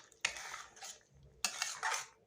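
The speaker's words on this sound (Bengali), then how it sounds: "মশলাটা এখন খুব ভালোভাবে আবারও কষিয়ে নেব" Masala for mushroom masala is stirred in a pan, with water just added to the spices, producing two bursts of scraping spatula and utensil clatter against the pan over a faint, low sizzle.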